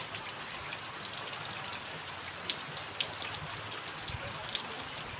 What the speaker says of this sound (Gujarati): બહુ જ વરસાદ પડે છે અત્યારે તો